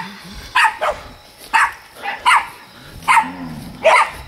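Dogs bark in a few sharp, fairly near bursts spaced across the scene, with a faint voice murmuring between them and a low background hum.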